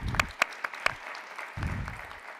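A brief, fairly quiet patter of clapping at an academic event, with a few sharp individual claps standing out, fading within a couple of seconds.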